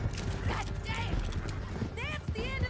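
Horse hooves clip-clop in a video game as a rider gallops through a canyon, a steady rhythmic patter mixed under game music and talk, with sharp chirping effects near the end.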